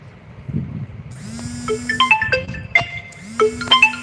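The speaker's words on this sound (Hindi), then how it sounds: "इसका फोन आ रहा है।" A mobile phone rings indoors with a repeating electronic ringtone melody of bright tones, starting about halfway through over low background rumble and some movement.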